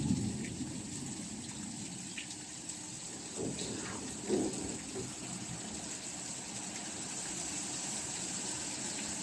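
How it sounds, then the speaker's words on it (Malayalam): Strong wind and heavy rain in Wayanad make a steady, broad rushing roar, with a few brief louder gusts or splashes rising above it, heard from close by. "അത്രയും ശക്തിയായ കാറ്റാണ് അടിക്കുന്നത്"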